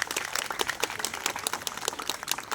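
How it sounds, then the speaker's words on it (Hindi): Applause at a school National Unity Day assembly honouring Sardar Vallabhbhai Patel: a steady wash of many hands clapping, moderately distant and even, with no voices over it. "उनके लिए जोरदार तालियां एक बार"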